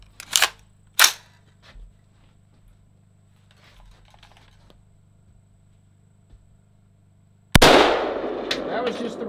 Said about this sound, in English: on the next shot, I have a 62 grain green tip M855, the armor piercing one